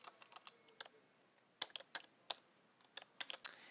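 Fingers type on a computer keyboard during an HTML lesson, producing a quiet, close run of light clicky keystrokes in irregular bursts with brief pauses between them.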